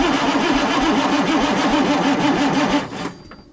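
A vehicle engine fires on its first start after sitting, the first start helped along with starting fluid; it runs loud and rough with a rhythmic lope, then cuts out abruptly near the end, leaving quiet.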